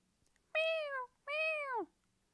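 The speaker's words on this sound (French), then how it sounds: "Mais ce n'est pas moi, ce sont mes petits chats" Two distinct kitten meows, each about half a second long with a falling pitch, sound close and clear against near silence.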